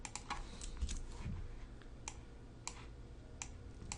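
Computer keyboard typing, quiet and close, with scattered bursts of sharp key clicks separated by short pauses over a low background hum.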